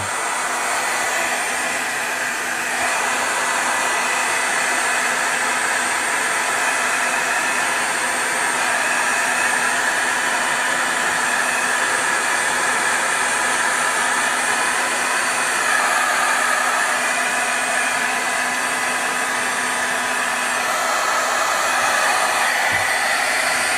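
A heat gun blows a steady, loud broadband hiss while drying stamped cards, the airflow roar continuing without a break from start to finish with no talk over it.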